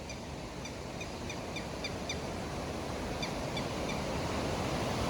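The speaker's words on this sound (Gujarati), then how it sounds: "આ રીતે જે પાણીનું ઝરણું વહે છે" A flowing stream gives a steady broadband rush of water, even and continuous, with faint bird chirps scattered over it.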